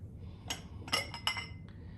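A depression glass candy dish clinks several times as it is picked up and set about, producing bright, close glassy taps over a faint room hum.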